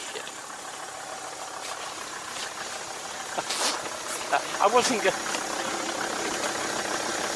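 An old car engine ticks over at idle with a steady low running sound, heard under a man's conversation.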